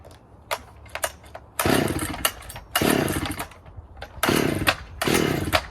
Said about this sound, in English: So let's fire this thing up and you can actually see how badass these saws are.